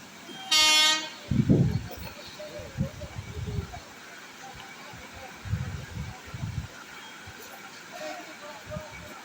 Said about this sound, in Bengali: এই দেখো দু নম্বর ট্রেন ঢুকে ঢুকে গেছে কাটোয়া হাওড়া লোকাল